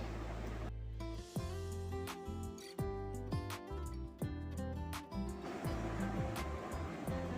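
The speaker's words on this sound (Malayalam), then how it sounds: "ഇനി അതിലേക്ക് പാലൊഴിച്ച് കൊടുക്കാം." Milk is poured over flattened rice (avil) topped with tutti frutti and peanuts, a steady liquid rush heard loudest at the start and end under background music.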